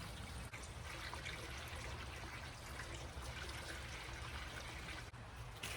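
Hot tap water pours steadily into a small block Chevy 350 engine, a continuous close splashing trickle with no talking.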